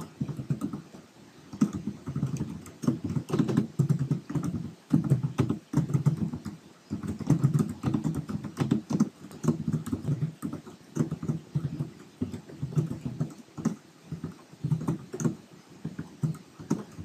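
Rapid keystrokes on a computer keyboard as a terminal command is typed on Ubuntu, an uneven patter of close clicks in bursts with short pauses, no talk.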